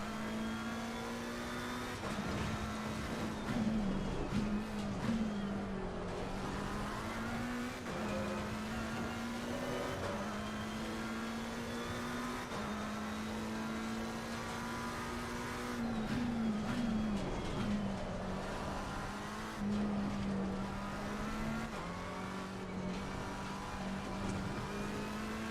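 Race car engine in the Assetto Corsa Competizione sim racing game on the Oulton circuit, a loud sustained drone rising and falling through gear changes and throttle lifts, with no talking.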